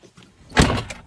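A Dacia Duster 2 (phase 2) car door is opened, a single close mechanical clunk of the latch followed by a brief rattling release, short and moderately loud against a quiet background.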